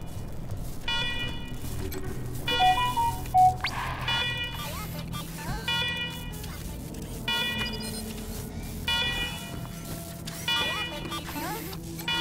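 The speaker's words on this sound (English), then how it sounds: "Oh, we are supposed to stop the alarm." A repeating alarm sounds in the video game Wasteland 3, bursts of electronic tones pulsing on and off at a steady rhythm over a low background hum, moderately loud throughout.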